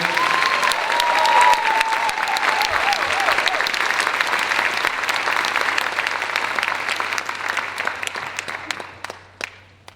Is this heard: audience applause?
yes